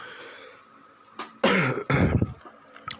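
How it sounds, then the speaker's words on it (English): A couple of harsh, raspy smoker's coughs break out close by after a quiet stretch, followed by a small throat sound. "it's just a smoker's cough"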